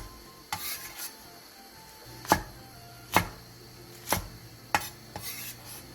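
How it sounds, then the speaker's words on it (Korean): A knife chops radish, onions and Cheongyang chili peppers into large chunks on a cutting board, making a run of sharp, separate thuds at an uneven pace, close and fairly loud, with no one talking. "무 2cm 두께 한 토막, 양파 2개, 청양고추 4개를 갈기 좋은 크기로 큼직하게 잘라주세요."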